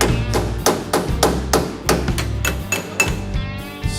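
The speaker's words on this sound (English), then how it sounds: "You want a little hammer to tap it in?" A small hammer taps repeatedly on a custom truck door's hinges as they are fitted into place, giving about a dozen sharp, close metallic knocks in an uneven rhythm.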